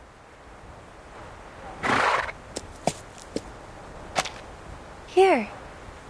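A horse in the video game Reverse 1999 lets out a short, rising-and-falling whinny near the end, after a burst of rustling and several sharp thumps and snaps spaced across a quiet background.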